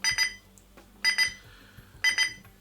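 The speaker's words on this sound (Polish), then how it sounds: "Tak się od, odzywa alarm." A Lumen TK00903 device sounds its alarm: three bursts of rapid double beeps spaced about a second apart, loud and close, with no voices over them.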